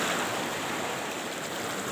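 Sea waves washing in, a steady, broad, hissing roar of surf with no distinct breaks, moderately loud and continuous.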